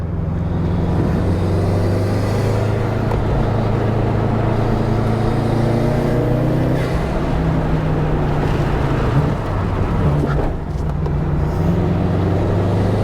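A race car with a freshly rebuilt engine drives an out lap on track, engine droning steadily at high volume throughout, its pitch shifting slightly as it runs, with wind rushing past.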